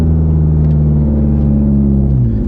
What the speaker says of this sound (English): Blast pipes on this bad girl.